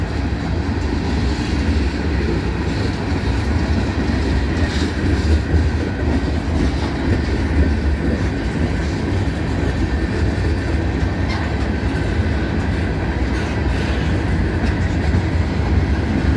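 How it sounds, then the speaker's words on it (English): A loud, continuous rumble of a passing freight train with many flat-spotted wheels, thumping and clattering rhythmically over the rails throughout. "A lot of flat spots on this train."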